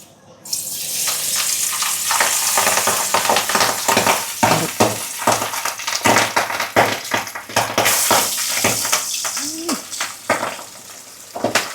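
Hot mustard oil sizzling in a pan for Bengali mustard pabda fish, a steady loud frying hiss with scraping and stirring clatter throughout, no talking.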